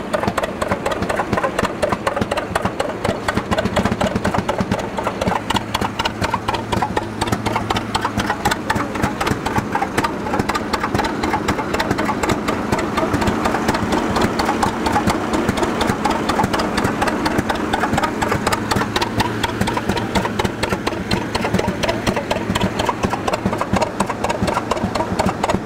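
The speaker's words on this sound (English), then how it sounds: "I work for Joe Peternell, the owner of this tractor here. It's a 1914 Hart-Parr 3060." A 1914 Hart-Parr 30-60 tractor engine runs steadily for the whole stretch, giving a loud, continuous low chugging throb with rattly mechanical texture and no pauses.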